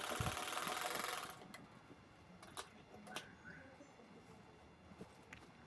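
A sewing machine runs for about a second, a fast close whir while stitching the cut corners of a cloth shopping bag, then stops, leaving light handling clicks and taps.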